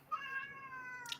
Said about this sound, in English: I don't know if that's Harry's cat or if that's Rafa's cat.